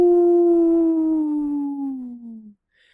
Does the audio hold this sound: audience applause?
no